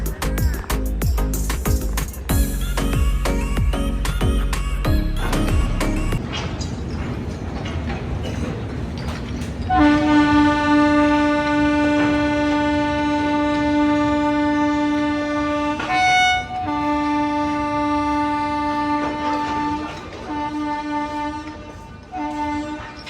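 A train at Raxaul near the Nepal–India border rattles past with clattering wheels, then sounds a loud, sustained horn blast in several long tones that swell and fade.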